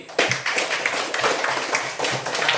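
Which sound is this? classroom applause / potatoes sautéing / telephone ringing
classroom applause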